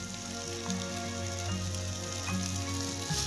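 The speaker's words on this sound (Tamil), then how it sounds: "எல்லாம் சேர்த்து நல்லா ஃப்ரை பண்ணி விட்டுடலாம்" Tomato masala with coriander frying in a pan, a continuous low crackling sizzle heard close up, steady throughout without speech.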